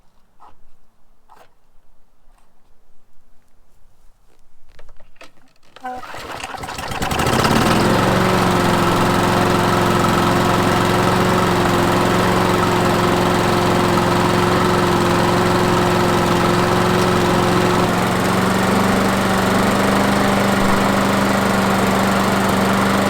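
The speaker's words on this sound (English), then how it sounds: "it's time to start the engine and give it a test" A Briggs & Stratton lawnmower engine with a newly replaced air filter sputters and clicks, then roars to full throttle and runs loud and steady with a constant droning pitch for the rest of the clip.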